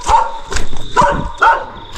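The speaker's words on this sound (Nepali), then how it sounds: "हुँदा हुँदा आफ्नै घरको कुकुरले पनि" A house dog barks close by in four or five loud, sharp barks in an uneven rhythm, with short gaps between them.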